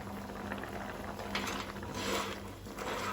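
Goan clam curry made with ground masala and a little water simmers in a pot, giving a steady, faint crackling bubble with a low background hum and no voices.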